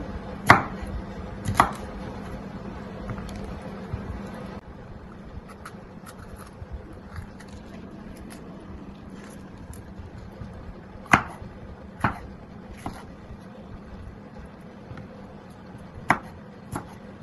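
A knife cuts through chilli on a board in a few sharp, spaced knocks, with quiet pauses between them, close by and not under any talk.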